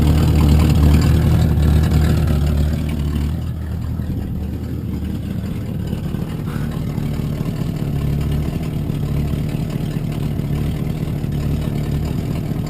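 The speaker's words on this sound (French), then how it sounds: "le bruit du V8." A 1967 Ford Mustang V8 idles steadily with a deep, rumbling low end. It sits loud and close, its tone easing slightly after the first few seconds and then holding an even throb.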